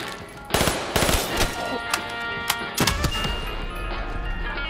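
Ray gun firing in Black Ops III's Kino der Toten zombies mode, a run of loud, sharp bursts repeating at an uneven rhythm over a constant background hum of game ambience.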